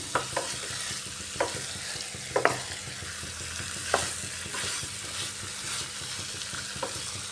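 Potatoes, pointed gourd and chickpeas fry in a pan in a constant close sizzle, with spatula strokes and a few sharp clicks against the pan.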